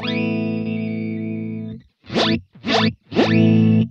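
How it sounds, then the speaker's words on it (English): An electric guitar plays a sustained chord, then three short stabs, each swept by a swooshing, jet-like Helix Dynamix flanger effect. "this flanger, the Dynamix flanger."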